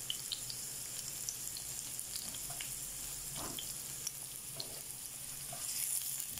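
Onions sizzling steadily in a frying pan for ginisang ampalaya with tuna, a continuous close hiss with occasional stirring scrapes and clinks.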